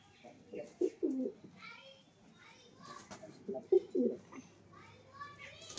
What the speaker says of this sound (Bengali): এই দেখেন আমার বাড়ির পায়রা এই দুটো